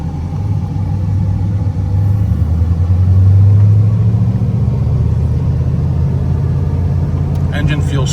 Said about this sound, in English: Engine feels strong, powerful, very responsive on the throttle